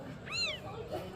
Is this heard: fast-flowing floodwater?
no